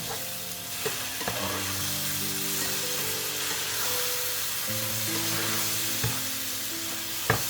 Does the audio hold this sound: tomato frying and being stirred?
yes